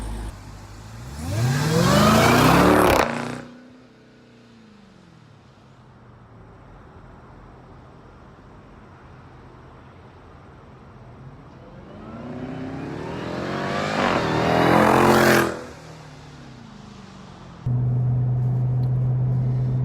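A 2018 Jeep Grand Cherokee Trackhawk engine revs hard twice during a drive, each loud accelerating roar climbing in pitch then cutting off, with a quieter steady cabin hum between and a low drone at the end.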